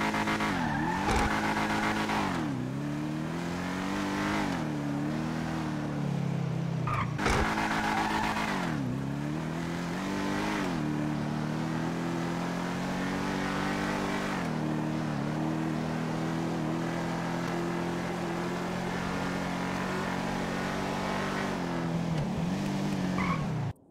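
Car run hard on a test track during a 0–100 acceleration test, engine climbing through gears with repeated shift dips and a steady loud roar, tyres squealing, continuous for the whole stretch.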